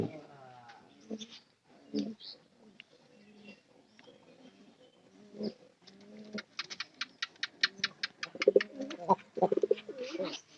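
Pigeons in a coop give repeated soft coos and scattered bird calls, with someone talking over much of it. Sharper clicks and taps bunch up toward the end.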